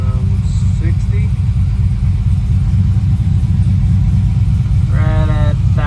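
A supercharged 1962 Chevrolet C10 engine idling right after a cold start, a loud, steady low-pitched rumble close by, with brief bursts of speech-like sound over it.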